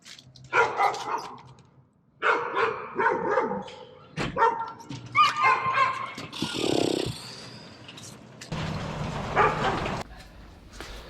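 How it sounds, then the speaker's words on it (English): A neighbouring dog barks repeatedly outdoors near a runner's route, sharp, moderately close barks in irregular bursts with yips and whines in between. "This neighbor's dog is pissing me off, man."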